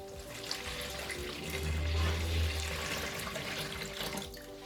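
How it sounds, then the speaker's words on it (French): Lukewarm water, 750 ml, pouring steadily into a container while mixing a slime kit, a continuous close splashing rush that swells in the middle and then tapers off, with no talking. "Et ensuite, j'ajoute les 750 ml d'eau. J'ai pris de l'eau tiède."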